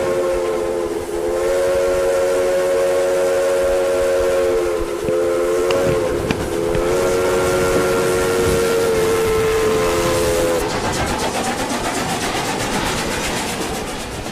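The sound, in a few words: steam train coming in, whistle, old film footage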